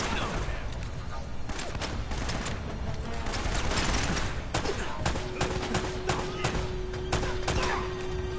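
Gunfire in the action game Uncharted: Drake's Fortune rattles in dense bursts of sharp shots over a steady loud combat din, with a sustained tone entering late.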